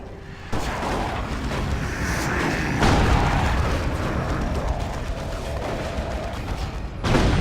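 Dense, continuous battle din from a Dawn of War 2 match, heavy booming cannon and artillery fire layered with rapid gunfire and explosions, loud throughout with a sharp burst near the end.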